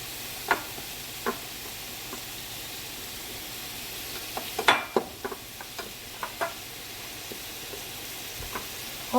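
Shrimp with garlic sizzling in a pan for shrimp broccoli pasta, a soft steady hiss with scattered clinks and scrapes as the food is stirred, close and fairly quiet.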